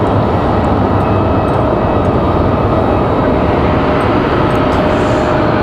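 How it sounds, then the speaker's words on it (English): Embraer E175LR airliner arriving at Raleigh-Durham International, a loud, steady broadband jet roar holding constant close by, with no talk. "Ash 6148 coming in from Houston. That's an E175LR"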